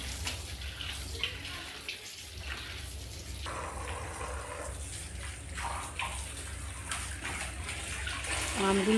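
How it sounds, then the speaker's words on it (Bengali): Raw sour mangoes are washed under running water from a tap for pickle making, a steady close gush and splash of water with handling noises throughout. "তো আমগুলো এবার আমি পরিষ্কার করে ভালো করে ধুয়ে নেব।"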